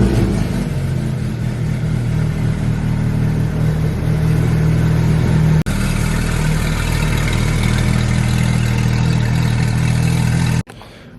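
A Porsche GT3 RS engine roars loudly and steadily at high revs, the sound continuous and close for most of the stretch, with one momentary dip midway before it cuts off abruptly near the end.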